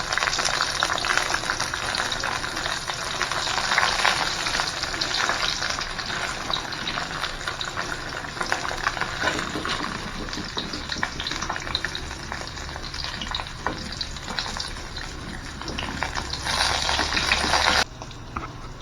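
Bitter gourd sizzles and crackles as it fries in hot oil for a long stretch, with occasional stirring scrapes and no talking.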